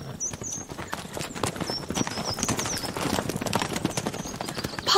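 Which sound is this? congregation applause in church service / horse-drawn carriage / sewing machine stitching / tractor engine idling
horse-drawn carriage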